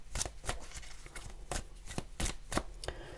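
Tarot deck being shuffled and cards drawn, a run of crisp riffling bursts in an uneven rhythm, close and fairly quiet, with no talking.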